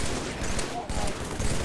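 Dense video game gunfire from a Halo-style firefight against the Flood, a loud, continuous rattle of rapid shots with voices mixed in.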